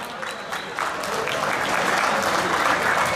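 An audience at a kickboxing gym event breaks into applause that swells after the first second and then stays dense and steady.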